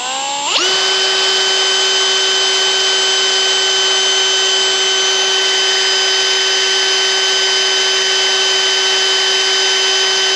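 A power drill with a sharp bit bores through metal held in a loose, unbolted vise. The motor spins up quickly, then holds a loud, steady whine with a grinding edge for about ten seconds, with no talking.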